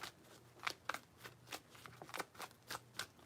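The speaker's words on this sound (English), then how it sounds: "these cards are so hard to shuffle." Tarot cards are shuffled in close, quiet riffling bursts, a dozen or so papery flicks and slaps in an uneven rhythm.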